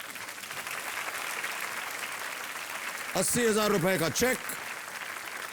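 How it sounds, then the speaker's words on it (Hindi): A studio audience at a quiz show claps in a steady, sustained round of applause. A voice speaks over it toward the end. "मैं चाहता हूं देवियों सज्जनों की आपकी तालियां बजती रहे"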